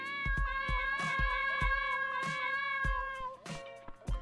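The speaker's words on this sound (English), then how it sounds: "Oh, I can pet the cat." A cat in the video game Dave the Diver meows repeatedly while being petted, giving a close, clear run of short mews with soft thumps between them.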